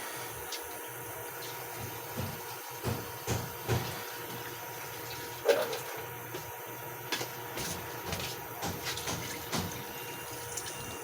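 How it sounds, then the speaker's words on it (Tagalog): Water poured into a covered pan of sautéed food for a packed lunch makes a continuous splashing hiss with intermittent sizzling bursts, moderately close and alone without talk. "Lagyan po natin ng tubig."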